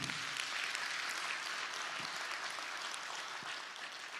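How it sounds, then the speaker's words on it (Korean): A church congregation claps during a Sunday service, a faint, distant wash of applause that stays even for a few seconds. "우리 하나님께 영광의 박수 올려드립니다."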